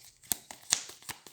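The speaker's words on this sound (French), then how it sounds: "Et on repêche 5 cartes." Playing cards drawn from a deck during a solo game of the Aeon's End card game, a series of soft, quick snaps and slides in an uneven rhythm, close and fairly quiet.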